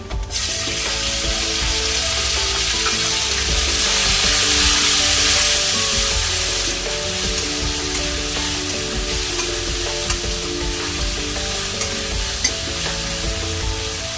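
Chopped tomato hits hot oil in a pan for a Bengali fish curry, bursting into a loud close sizzle that swells briefly, then settles into a steady, slightly softer frying hiss for a long stretch.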